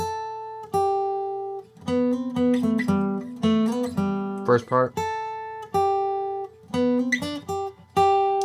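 Slow electric guitar solo with sustained notes and bends, played deliberately; a voice speaks briefly before the playing.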